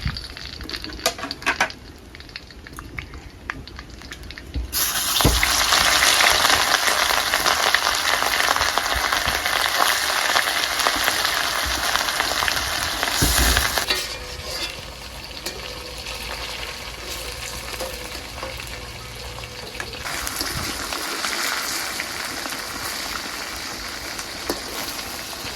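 Katla fish frying in mustard oil in a home kitchen, a crackling sizzle that swells loudly after the first few seconds, with shifts in intensity as pieces are moved, and no talking.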